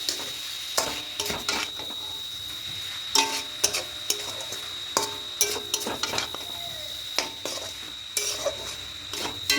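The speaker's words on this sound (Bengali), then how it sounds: "এইভাবে অনবরত নাড়তে থাকবো" A spoon stirs grated coconut mixed with cardamom in a pan, scraping and knocking against the metal in a steady irregular rhythm under a faint sizzle and a thin tonal hum.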